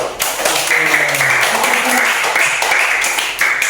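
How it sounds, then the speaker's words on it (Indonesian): A school class applauding together indoors, a dense, close burst of many hands clapping that runs steadily for a few seconds, with faint voices mixed in. "Kasih aplaus dulu"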